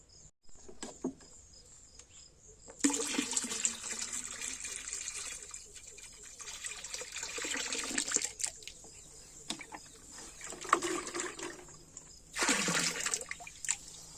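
Liquid microbial EM culture solution for farming is mixed with a stick in a container, producing bursts of sloshing, swirling water that start and stop, moderately close and fairly quiet.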